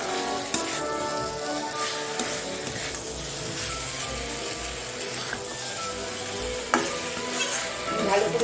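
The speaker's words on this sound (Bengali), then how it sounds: "ভালো করে সবজিগুলো দিয়ে মশলা দিয়ে কষে নেব।" Potato and cauliflower pieces sautéed with spices in a pan, a steady sizzle with continuous stirring and scraping and a few sharper clinks of the spoon against the pan.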